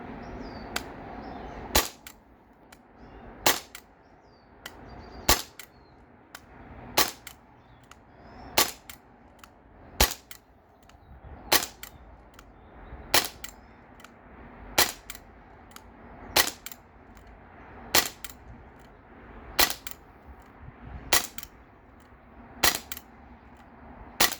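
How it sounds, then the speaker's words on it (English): A gas-powered Glock 19X Gen 5 BB pistol fires one-handed at a target: about fourteen sharp, loud pops spaced evenly roughly every second and a half, with no talking. "I'm just going to try one-handed firing, and this is the third magazine"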